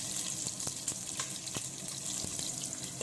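Green chillies and bay leaf hitting hot oil for a tempering with cumin, asafoetida and dried chilli, giving a faint, close sizzle with a few sharp crackles over a few seconds.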